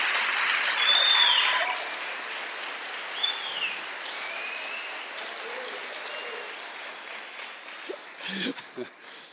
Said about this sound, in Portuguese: dê para Jesus mais uma bem forte, forte salva de palmas